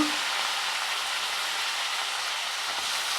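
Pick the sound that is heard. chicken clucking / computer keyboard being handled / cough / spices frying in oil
spices frying in oil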